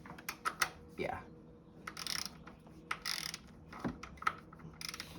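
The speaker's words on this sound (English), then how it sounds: "we're going to torque that down right now" A torque wrench tightens a bolt on the engine of a 2011 Subaru Impreza 2.5i during timing belt and water pump work. Close, quiet ratcheting clicks come in short bursts with metallic taps between them, alongside some speech.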